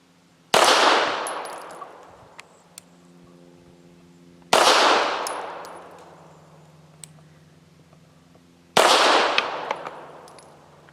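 A Bersa TPR9 pistol firing heavy PPU subsonic 158 grain rounds at a range: three loud, evenly spaced shots, each followed by a long decaying echo and low hum, with no voices.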